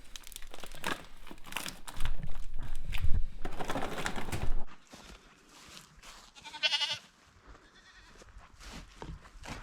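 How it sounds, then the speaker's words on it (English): Goats bleat nearby in loud, wavering calls on a snowy homestead, mixed with crinkling and rustling noises, then quieter scattered bleats follow. "I don't think these goats are really happy about the sudden weather change"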